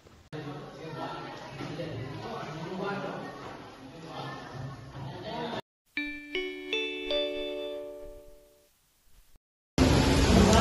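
A school bell rings out with a series of clear, sustained ding-dong chime tones between stretches of noisy classroom chatter and talking.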